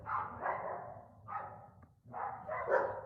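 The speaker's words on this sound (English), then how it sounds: "dogs." Two pet dogs barking at home, several rough bursts in quick clusters with short pauses between, fairly close and moderately loud.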